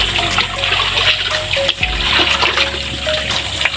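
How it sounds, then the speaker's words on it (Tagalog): Water runs and trickles steadily while a well is being drained and cleaned in the countryside, splashing continuously and loudly from start to finish. "ada tubig."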